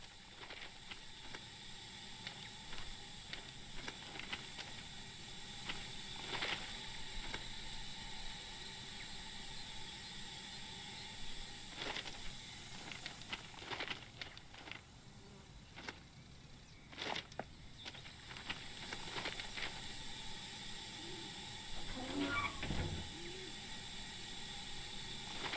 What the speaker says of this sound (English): You'll be driving this Stania Class 8F steam locomotive.